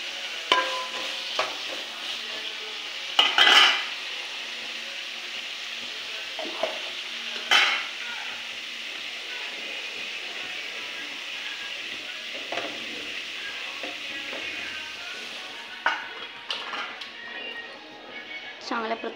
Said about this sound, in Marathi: पातेल्यामध्ये परतून घेऊया.